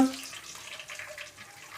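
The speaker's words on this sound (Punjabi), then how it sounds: "ਤੇ ਲਓ ਜੀ ਹੁਣ ਪਾ ਦਾਂਗੇ ਪਾਣੀ ਇਹਦੇ ਵਿੱਚ ਆਪਾਂ" Water poured into a pot of rice soaked for a sweet jaggery rice dish, a steady splashing flow near and fairly loud, with no talking.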